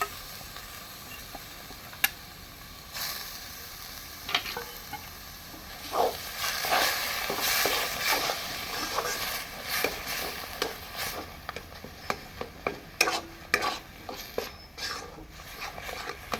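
Lentil paste with grated bottle gourd being stirred in a pan, a soft continuous sizzle with scraping strokes and occasional light clinks of a spoon against metal, fairly quiet and steady.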